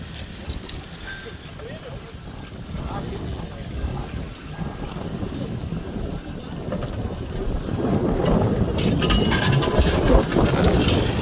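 A boat moving over open water at the Blue Lagoon, Cyprus, with a steady engine drone and wind buffeting the microphone, growing louder and windier toward the end.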